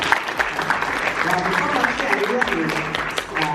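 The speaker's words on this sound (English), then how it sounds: "Big round of applause." An audience claps together in steady applause while voices talk over it, the clapping forming a constant bed beneath the speech.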